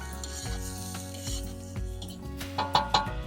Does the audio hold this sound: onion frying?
yes